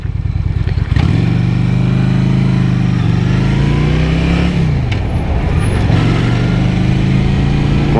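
A motorcycle ridden along a city avenue in Baltimore, the engine droning steadily while heavy wind rushes past the helmet microphone, loud and continuous throughout.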